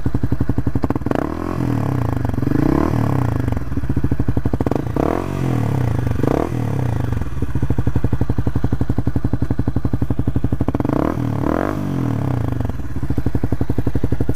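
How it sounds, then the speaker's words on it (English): A Honda CBR125R motorcycle engine runs steadily close by, with several quick throttle blips rising and falling over a rattly idle and no talking. "It's not a bad sounding bike at all."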